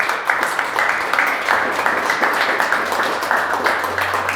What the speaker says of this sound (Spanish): ¿Le puede dar un aplauso al Señor Jesús?